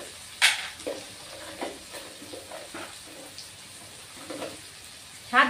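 Vegetables and potatoes frying with chilli powder and spices in a pan, a steady soft sizzle broken by scraping stirs and a few sharper clanks of the spoon, close and alone without speech.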